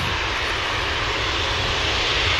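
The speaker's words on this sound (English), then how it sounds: "Finnair for Helsinki next out. E190 long range aircraft." Finnair Embraer E190 jet at Manchester Airport, a loud, continuous engine roar with broad rushing noise holding steady throughout.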